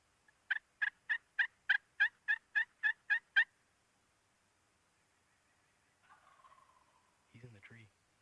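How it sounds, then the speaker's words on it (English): A wild turkey gobbles and calls in spring woods in Maine or New Hampshire, a rapid run of about ten sharp notes, followed by fainter calls after a pause. "That hen's calling back to me. And that's getting him fired up."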